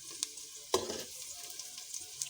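Ingredients for chickpea dal khichuri frying in a pan, a soft steady sizzle with a few brief scraping stirs, close and alone without talk.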